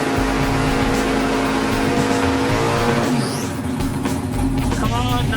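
A drag racing car launches hard down the strip at a run-what-you-brung pass event, a loud sustained engine roar with rising revs and tire noise, close and continuous, with some crowd or commentary voices mixed in.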